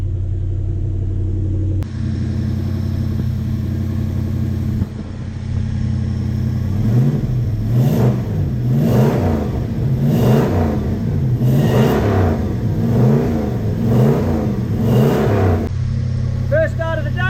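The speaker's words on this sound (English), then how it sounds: "First start of the day, and it sounds pretty bloody good." A car engine on its first start of the day after fitment of a new wiring loom settles into a loud, steady idle, then is blipped through a series of rhythmic revs that rise and fall before dropping back to idle.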